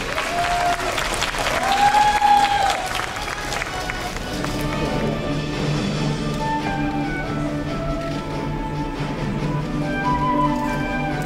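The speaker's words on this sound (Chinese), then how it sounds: "那么鼓掌一下" Audience applause in a hall at a 2020 IFBB Elite Pro men's physique bodybuilding competition, a broad steady wash of clapping running throughout, with a host's amplified voice speaking over it.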